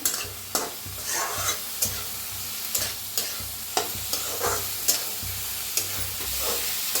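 Moth beans (matki) dry-roasting in a pan, stirred with regular scraping strokes roughly once a second over a low, continuous sizzle, close and fairly quiet, no voices.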